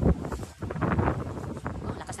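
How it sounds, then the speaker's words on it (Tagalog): Strong wind roars across the microphone outdoors as a fire spreads nearby, a steady rushing buffet heard under agitated speech. "Oh, lakas ng hangin"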